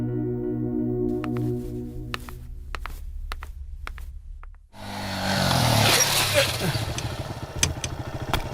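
A motorcycle ridden in a scene from a Hindi-dubbed South Indian film, its engine rising suddenly from a quieter musical passage into a steady, loud, rough roar that holds to the end.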